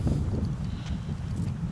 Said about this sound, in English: It is still windy, but let's persevere